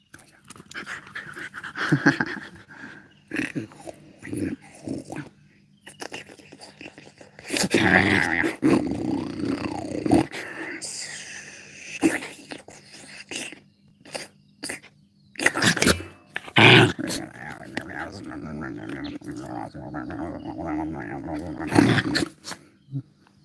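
A puppy growls and pants in low rumbling bursts, close by and rising and falling in several spells, with a person talking intermittently throughout.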